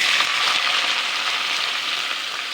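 Pieces of sweet pumpkin frying in hot oil in a wok, a loud, steady hiss and sizzle that carries on unbroken and close.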